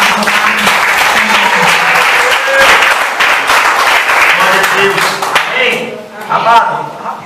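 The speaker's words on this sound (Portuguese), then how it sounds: "Aplauda o Senhor." Congregation applauding at an evening Pentecostal church service in Pompeia, Belo Horizonte, a dense wash of clapping that runs steadily under voices and shouted praise before tapering near the end.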